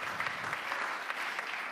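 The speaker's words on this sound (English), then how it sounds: "You can applaud." Audience at the Munich Security Conference applauds, a dense, even wash of clapping from a large hall crowd, sustained and moderately loud throughout the short stretch with no voices on top.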